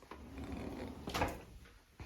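A kitchen drawer holding plates and pans slides open or shut, giving a short scraping rumble with a sharper knock partway through and another soft bump at the end, fairly quiet and close.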